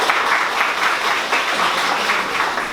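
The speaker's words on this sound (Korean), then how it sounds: "박수 부탁드릴게요" Wedding guests at a Korean ceremony in a hall give steady, dense applause right after the officiant's declaration, a full crowd clapping continuously at close range with no voices over it.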